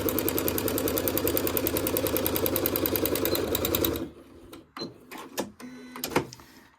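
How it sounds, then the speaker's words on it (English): A sewing machine stitches fabric down on a heart-shaped scrap mug rug, running in a steady rapid mechanical rhythm for about four seconds before stopping, followed by a few soft handling clicks and rustles. "I'm going to stitch down like we did before"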